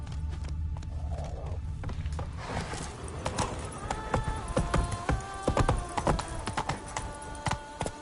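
Roach, a horse in The Witcher 3, breaks into a gallop; hoof clip-clops grow into a fast, uneven drumming rhythm, close and prominent, over a low rumbling background.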